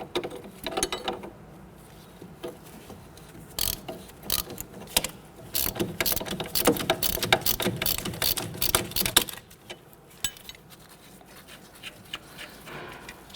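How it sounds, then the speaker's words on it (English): Ratchet turning a nut on a Honda Ridgeline front wheel bearing, rapid clicking bursts in uneven runs up close, then a few sparse clicks as the work eases off. "You're going to hold this with a number 5 Allen key. We have it on a ratchet."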